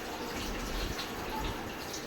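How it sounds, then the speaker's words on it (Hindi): Rice goes into a pot of already hot, boiling water, making a steady, dense watery rush and bubbling hiss that runs evenly throughout, with no talking. "डाल दिया हमने इसमें चावल।"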